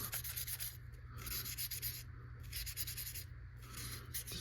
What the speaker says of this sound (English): I'm going to very lightly sand down the area to get that solder off.